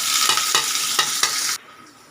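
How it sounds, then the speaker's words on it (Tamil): Onions, green chillies and curry leaves sauté in a pan with a loud, close hiss and four quick rhythmic spatula scrapes, then the sizzle drops away sharply, leaving a faint quiet tail. "இப்போ இது வெங்காயம் கொஞ்சம் நல்லா வதங்கி வரட்டுங்க"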